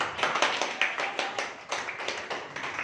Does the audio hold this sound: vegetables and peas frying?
no